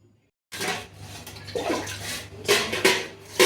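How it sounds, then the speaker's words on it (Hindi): Lentils for dahi vada are washed in water, with loud splashing and swirling that rises and falls in bursts, sloshing close by. "अच्छे से ना 2 से 3 बार पानी से इसे वॉश कर लेंगे ना, तो इसकी सारी गंदगी निकल जाएगी।"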